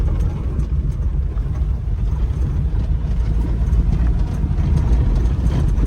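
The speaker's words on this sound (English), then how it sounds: "So other than the bumps, because of the bumpy field, this truck is driving great" A mini truck rolls across a bumpy field near corn, its engine a continuous low drone mixed with irregular knocks and rattles from the rough ground, steady and fairly loud with no talking.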